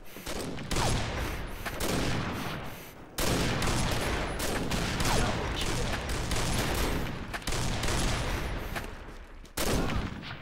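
Gunfire in the online shooter Combat Arms: dense, near-continuous bursts of automatic fire with short gaps and abrupt restarts, loud and close, with faint game voices underneath.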